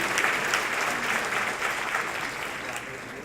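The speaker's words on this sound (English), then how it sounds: "Give them a huge round of applause, everybody" An audience at an evening celebration honoring Dr. Jalal and the board gives a loud, sustained round of dense applause that carries evenly to the end, with some crowd noise blended in.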